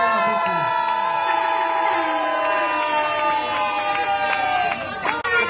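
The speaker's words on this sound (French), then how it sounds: "Madame doit prendre sa place sous nos applaudissements" Guests at a wedding reception cheering and clapping for the bride as music with a sustained melody plays loudly over the crowd noise throughout.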